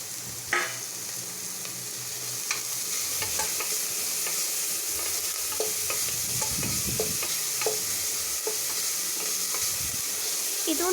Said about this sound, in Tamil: அப்புறம் கொஞ்சம் கேரட், கேப்சிகம் எல்லாத்தையுமே போட்டு நல்லா வதக்குங்க.